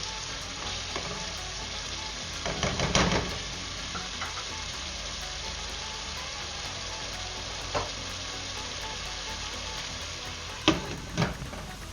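Chicken with yogurt sizzles and bubbles in a covered pot over a medium-low flame, a steady close frying hiss with occasional louder spits and stirring clinks.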